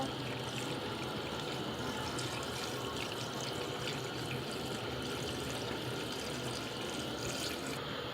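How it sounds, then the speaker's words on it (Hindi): Water pours steadily into a pot of chicken with potatoes and peas, a continuous faint splashing rush with no breaks and no voices. "अब मैं इसके अंदर पानी शामिल कर दूँगी।"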